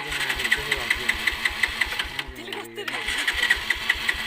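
Motorbike engine fired up and idling with a fast, even chugging pulse throughout, loud and close, briefly dipping midway before steadying again.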